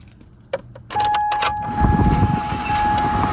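A cheap $200 car turns over and its engine catches after a few short clicks and key sounds, then settles into a steady idle with a thin whine on top, close by.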